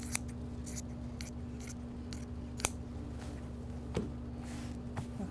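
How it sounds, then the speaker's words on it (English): Scissors cut open a fabric seam while an apron is sewn, giving a series of crisp snips, roughly one every half second, close and alone, with a sharper click midway. "cut it open on the seam."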